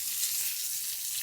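Sliced onion sizzling in a hot frying pan while prawns are cooked, a dense steady hiss close by, with no voices.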